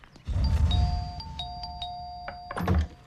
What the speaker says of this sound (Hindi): कितना डोरबेल मारता है यहाँ?